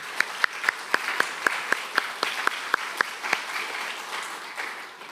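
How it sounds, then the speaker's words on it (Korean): A church congregation at a special early-morning prayer service claps together in encouragement, a run of sharp, evenly spaced unison claps that keeps a steady beat before loosening into scattered, softer clapping. "우리 함께 우리의 다음 세대를 위해서 힘찬 격려의 박수를 해주시면 고맙겠습니다."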